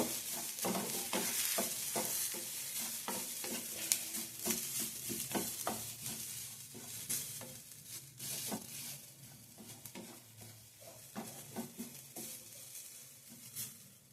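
Grated fresh coconut frying in a pan while being stirred, with a continuous soft sizzle under repeated scraping strokes from a spoon, heard close and steady throughout with no talking.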